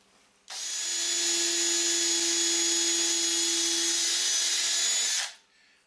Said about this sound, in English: So let's get some holes drilled.